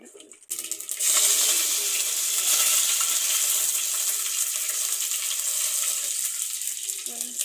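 Mustard seeds, onion and cumin hitting hot sesame oil for a sardine curry burst into loud, bright sizzling and crackling after a brief quiet start, then keep frying steadily and close.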